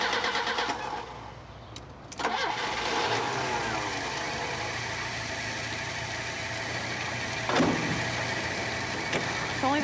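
A car engine cranks and catches with a sharp burst about two seconds in, then settles into a steady idle close by, with a brief surge in revs later.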